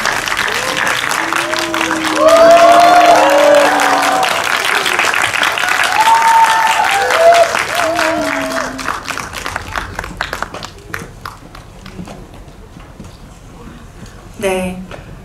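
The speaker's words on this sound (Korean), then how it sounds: "큰 박수로 세 분의 게스트를 환영해 주시기 바랍니다." An audience applauds loudly to welcome three guests at a Korean film screening talk event, sustained clapping that swells then tapers off under ongoing music and talk.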